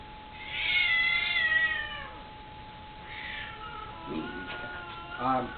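Cats in a room meow and caterwaul in a few drawn-out, wavering calls spread across several seconds, fairly close and moderately loud, with a steady hum beneath.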